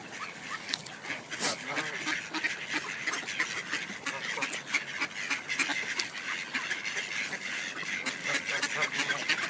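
A crowd of ducks and geese in a Solihull park quack and honk constantly around a person, with busy overlapping calls close by and a few short remarks from the person.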